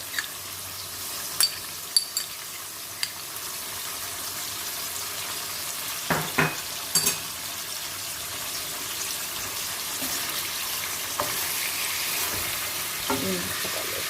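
Steady, soft sizzling of garlic and ginger paste frying in a pan, with occasional clinks and scrapes of a utensil against the metal.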